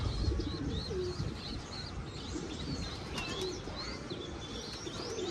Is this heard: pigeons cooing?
yes